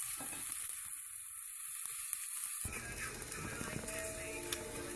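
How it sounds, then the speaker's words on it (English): Onion and garlic sautéing in a pan for a creamy pumpkin soup, a steady close sizzle and crackle that grows busier and louder partway through, with occasional stirring clatter and no talking. "I'm just going to saute these until they're nice and translucent."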